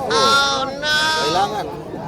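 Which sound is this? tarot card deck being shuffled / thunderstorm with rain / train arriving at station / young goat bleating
young goat bleating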